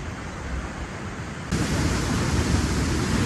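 Waterfall near Budva, Montenegro, a steady broadband rush of falling water that swells louder halfway through and holds close and continuous with no voices.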